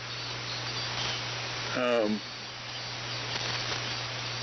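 A steady, dense buzz of cicadas fills the night, unbroken throughout, with a low hum beneath and a brief voice-like sound partway through.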